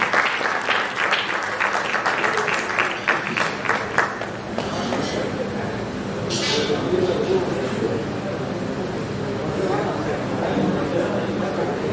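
Audience clapping at a Marathi film event for the movie Pondicherry, a dense, steady wash of applause filling the space, strongest early then continuing with crowd murmur underneath.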